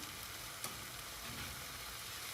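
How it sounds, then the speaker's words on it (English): Eggs being scrambled in a frying pan with a spatula give a faint, steady sizzle with a brief scrape or tap of the spatula early on. "I'm chopping up the eggs now with the freaking spatula, chopping up the eggs so it's all nice and scrambled."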